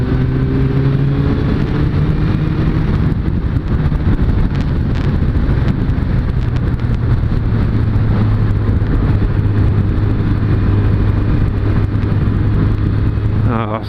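A Suzuki Bandit 600 motorcycle ridden on an open sunny road, its engine droning steadily with shifting pitch under heavy, constant wind rush at the rider's microphone.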